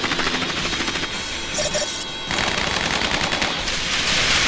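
Airstrike attack in Crisis Core: Final Fantasy VII, a loud burst of rapid gunfire-like rattling and buzzing effects with a sharp high chime partway through, then continued rattling impacts.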